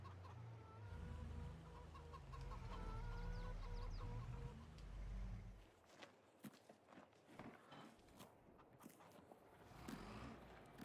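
Farmyard chickens cluck in a quick, steady patter over low engine-like rumble at first, then the calls continue more sparsely among scattered footsteps and rustling, all fairly faint.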